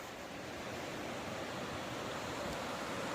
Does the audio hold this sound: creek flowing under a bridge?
yes